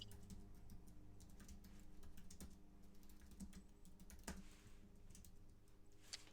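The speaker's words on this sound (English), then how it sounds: "Can I just type it in?" Keys clatter on a computer keyboard in steady, quiet typing with irregular clicks throughout, a few sharper keystrokes standing out over a low background hum.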